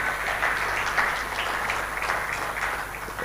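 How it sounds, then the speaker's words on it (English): Applause from an audience at a forum on financing sustainable energy and agriculture infrastructure, a dense, continuous patter of many hands at fairly even loudness throughout. "I'm going to insist on another resounding applause for the distinguished chairman of this occasion"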